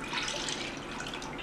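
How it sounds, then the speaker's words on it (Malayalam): Milk poured into a pot for homemade coffee, a steady close liquid trickle and splash lasting throughout, fairly quiet with no talking. "ഇനി ഇതിലേക്ക് നമുക്ക് 2 കപ്പ് പാൽ ഒഴിച്ചു കൊടുക്കാം."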